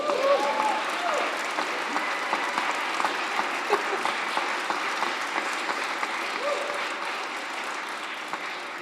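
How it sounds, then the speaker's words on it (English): Wedding guests break into steady applause after the ceremony's proclamation in a church, a dense, sustained wash of many hands clapping at moderate distance, with faint voices mixed in. "Feel free to go ahead and clap."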